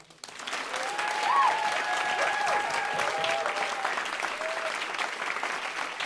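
Loud, sustained audience applause fills the room for a surprise guest musician at a live show. Steady clapping with a few whistle-like cheers continues throughout without a break.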